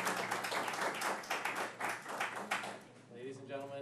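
Audience clapping breaks out at a Royal Oak city commission meeting, a dense burst of applause filling the room for a few seconds before thinning as a voice begins to speak.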